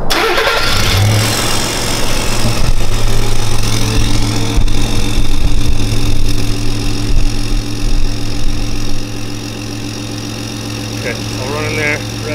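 A deleted and tuned Ford F-150 Powerstroke diesel truck cold-starts with a loud crank and catch, then settles into a rough, rumbling idle, with someone talking over it.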